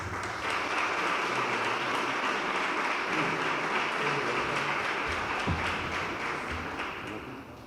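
Sustained applause from a conference audience at a Pride Day talk, honoring a lecturer; steady dense clapping fills the room throughout, tapering slightly at the end.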